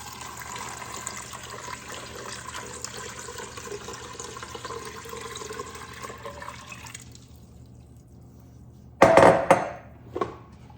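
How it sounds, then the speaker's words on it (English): Water is poured into an Instant Pot holding beans and salt, a steady splashing pour that stops partway through, followed by a couple of brief clanks of the pot. "we're going to add 8 cups of water"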